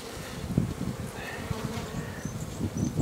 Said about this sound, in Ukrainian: Танцюють бджоли, вказують своїм сестрам, куди летіти